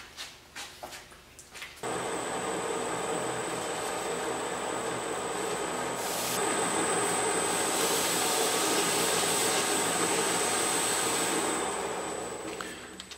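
Wood lathe spinning up and running steadily while a lacquered turned project is buffed to a shine, a loud continuous motor whine with a high steady tone starting after a short quiet lead-in.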